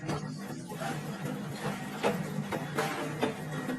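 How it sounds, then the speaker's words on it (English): Motorcycle fender being trimmed at the rear end and rolled along its edges by shop machines in a Pakistani workshop, giving a steady mechanical whirr and clatter with a few sharper knocks throughout. "This machine trims the rear end of the fender. And this one rolls the edges."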